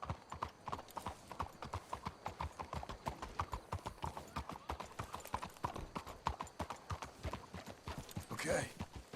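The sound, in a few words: horse hooves clip-clopping, video game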